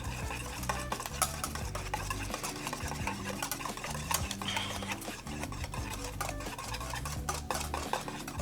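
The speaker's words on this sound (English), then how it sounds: "Whisk it up." Hollandaise sauce whisked for eggs Benedict, a dense continuous scraping and clinking of whisk against bowl, steady and close throughout with no talk.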